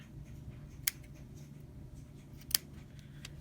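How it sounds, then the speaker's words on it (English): Scissors snipping bracelet beading cord, two sharp, close snips standing alone over a quiet background hum. "Then what I'm going to do with the other side is I'm going to even it out and cut it."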